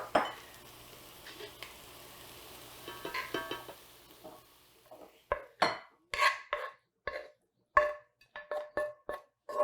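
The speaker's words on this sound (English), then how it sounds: "Now that our salad is nice and warm, we can go ahead and transfer it to a bowl." Warm three sisters salad with onion is scraped from a pan into a bowl: a soft sizzle and light scraping, then a run of close, sharp clinks and taps of utensil on cookware.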